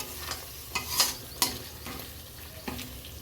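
Masala for chicken chaap frying in oil over medium heat, a soft steady sizzle broken by several sharp scraping stirs of the spoon in the pan, fairly close and quiet, with no talk.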